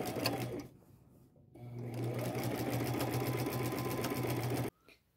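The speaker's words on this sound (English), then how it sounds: "Now I will sew him with a small zigzag stitch and a gray thread." Sewing machine running a small zigzag stitch with gray thread on a patchwork skirt applique, a steady close mechanical whir that starts, pauses briefly, then runs continuously for several seconds before stopping.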